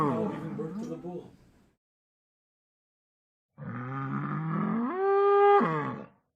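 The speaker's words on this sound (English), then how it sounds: "Sounds like a cow giving birth." A drawn-out cow moo in two parts, a rough low call, a gap of silence, then a louder rising bellow that strains upward before cutting off; no talk over it.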